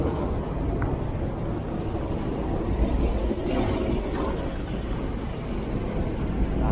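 Steady road traffic in Bonifacio Global City, heard from a delivery motorbike: a continuous low rumble of engines and tyres, loud and close, with no breaks or voices.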